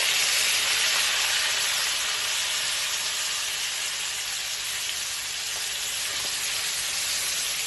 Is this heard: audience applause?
no